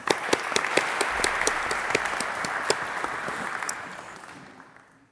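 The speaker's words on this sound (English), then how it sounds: "Congratulations to the students. Please give them a round of applause." Applause for graduating social work students at a university hooding ceremony: a dense, full crowd clapping with crisp individual claps on top, sustained loudly before tapering off and fading out at the close.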